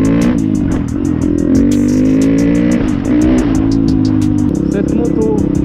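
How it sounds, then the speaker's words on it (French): A YCF 190 Bigy Daytona dirt bike accelerates hard along a straight without using the clutch. The engine note is loud and close, climbing through several rising revs as the bike pulls away. "je vais juste vous montrer la puissance que procure ce moteur en une ligne droite, sans embrayage, juste à l'accélération"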